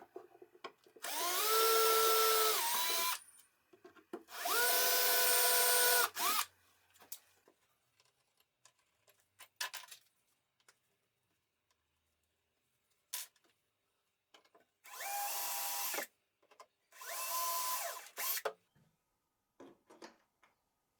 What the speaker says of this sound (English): I mark and I drill the holes for the screws to the sides of the caps.